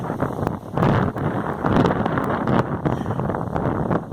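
Strong, steady wind roars and gusts through trees, with rustling surges and buffeting against the microphone throughout.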